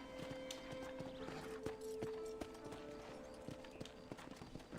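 Horse hooves clip-clop at a steady walking rhythm in the Red Dead Redemption video game, close and fairly quiet, with game ambience and a brief tonal hum running beneath.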